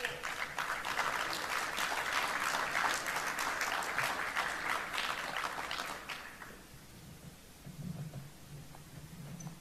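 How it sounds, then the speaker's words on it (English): Audience applause welcoming a panel onto the stage at an army conference, a steady dense wash of clapping that fades out after about six seconds, leaving quiet room noise and a faint low murmur. "let's give them a round of applause."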